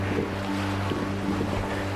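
A sailboat under way along the west coast of Corsica, heading north on the Mediterranean, with a steady wash of water against the hull and wind rushing over the microphone, continuous and close.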